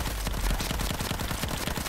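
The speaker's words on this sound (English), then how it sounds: "Oh, somebody's shooting at me." Rapid automatic gunfire in Battlefield 1 during an open beta Conquest match: a dense, fast rattle of shots, fairly loud, continuing without a break.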